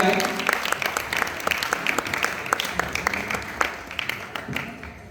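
Studio audience applause on a Hindi courtroom-style TV show, a loud, dense burst of many clapping hands with sharp individual claps standing out, carrying on steadily throughout.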